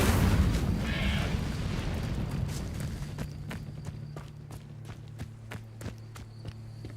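An Incendio fire spell cast in Hogwarts Legacy erupts as a loud, roaring whoosh that fades over a few seconds, followed by a steady run of light rhythmic clicks like footsteps.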